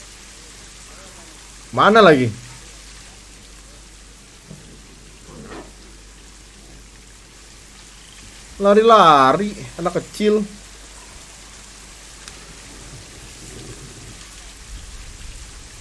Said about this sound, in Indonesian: Lihat hujan, grafik hujannya.